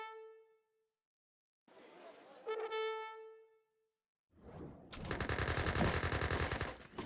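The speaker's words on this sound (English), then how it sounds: "Gatling guns are here in play." Gatling guns firing in an Age of Empires 3 battle, with a sustained rattle of rapid shots in the latter half following scattered game sounds and tones.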